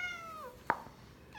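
A domestic cat meows in a few drawn-out, wavering calls, with one sharp louder meow in the middle, close by and quiet against a low room background with no talk.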